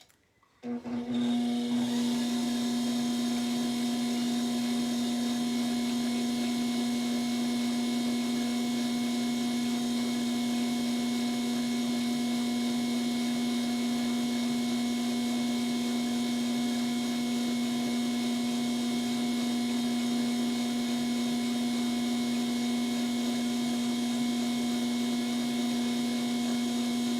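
A potter's wheel spins steadily while pottery is trimmed, giving a constant motor hum with a strong steady tone and a light scraping texture, continuous and close for the whole stretch after a brief start.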